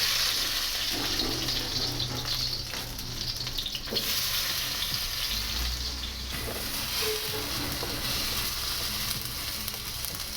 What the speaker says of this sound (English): I'm going to add in my tomatoes.